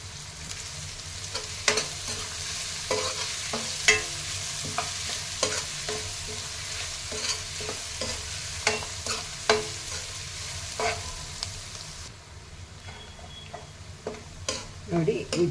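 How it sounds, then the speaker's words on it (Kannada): Onions fry in a pan with salt for garlic chitranna, giving a soft continuous sizzle broken by repeated scraping stirs and clinks of the spoon, close and moderately quiet. "ಈರುಳ್ಳಿ ಫ್ರೈ ಆಗೋದಕ್ಕೆ ಸ್ವಲ್ಪ ಉಪ್ಪು ಹಾಕಿ"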